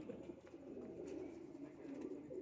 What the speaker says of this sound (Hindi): इस तरफ ये दोस्तों टेडी रामपुरी कबूतर है